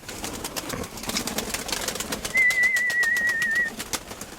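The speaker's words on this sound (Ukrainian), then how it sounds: "Вон ванін, карий голуб" Pigeons calling amid a busy outdoor flock, with a steady chirping whistle in the middle of the stretch and constant scratchy background noise.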